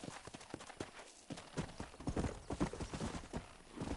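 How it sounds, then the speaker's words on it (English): A horse in Red Dead Redemption trots with sharp, rhythmic hoof clip-clops, steady and close, growing louder partway through, with a brief whinny mixed in. "Oh, that is my horse."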